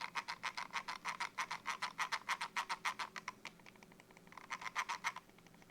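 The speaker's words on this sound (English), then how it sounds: "The scroll wheel." Quick, faint ratcheting clicks come in steady bursts from the scroll wheel of a Logitech G Pro X2 Superstrike mouse. They pause briefly, then resume.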